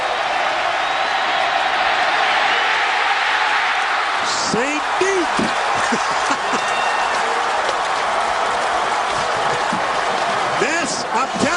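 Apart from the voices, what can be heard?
college football stadium crowd getting loud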